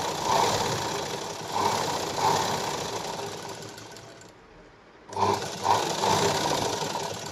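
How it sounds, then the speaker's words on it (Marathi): A sewing machine stitches along the edge of blouse fabric in steady whirring runs, slowing and briefly falling silent near the end before starting up again; close and moderately loud, with no talking. "एकदम कडेला आपल्याला शिलाई मारून घ्यायची"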